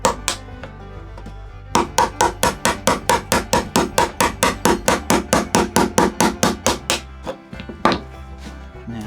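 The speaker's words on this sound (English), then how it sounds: "I'm going to try and chisel this if I can." A hammer drives a chisel into a hardwood dog hole insert on a workbench: a fast, steady run of about two dozen sharp, close, loud strikes, with a few slower taps at the start and end.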